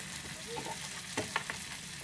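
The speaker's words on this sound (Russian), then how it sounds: "перцовую пасту и все вместе обжариваем примерно 2-3 минуты" Vegetables with pepper paste and tomato paste frying in a pan, a soft steady sizzle with a few brief clinks of stirring, close and fairly quiet.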